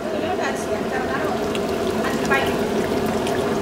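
Lemon juice from three seedless lemons is poured into a large pot of boiling mutton dum biryani made wedding-style; a steady wash of liquid and simmering bubbling runs continuously at close range.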